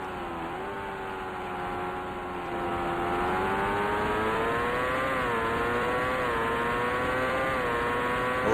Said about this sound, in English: We'll let the revs sing a little bit in qualifying here.